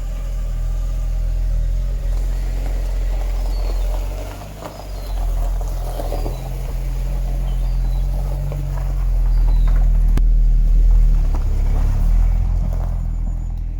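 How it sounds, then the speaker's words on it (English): A SEAT Leon Cupra R 225 on its worn standard exhaust idles with a deep, loud, steady rumble, the engine note swelling slightly toward the end with no voices present. "It doesn't sound too bad for a standard exhaust, but it's definitely seen better days and needs replacing."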